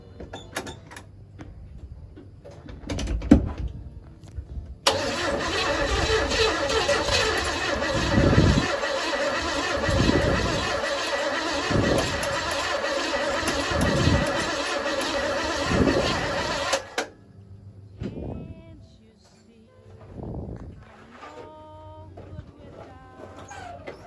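A 1961 Chevy Apache truck engine, unstarted for over 25 years, cranks over with a loud steady churn and a series of rhythmic heavy thumps for about twelve seconds, then cuts off. Voices talk before and after.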